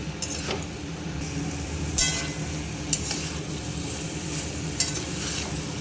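Fried jackfruit and potato pieces being sautéed with spices in a pan, a constant close sizzle broken by a few sharp scrapes and knocks of the spatula against the metal.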